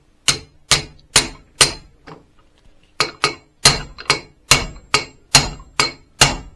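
Sharp metallic hammer blows strike a socket driving a Bidalot crankshaft into a 103 moped crankcase, about a dozen loud, close taps in two bursts separated by a short pause, each ringing briefly.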